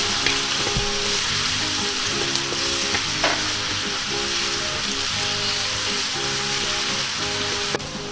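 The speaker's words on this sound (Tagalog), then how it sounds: "maglagay na po tayo ng mantika. Tapos ilagay na natin yung ating bawang at saka yung sibuyas." Garlic and onion sautéing in hot cooking oil for pansit bihon, a steady close sizzle and frying hiss throughout with occasional stirring scrapes, no talk.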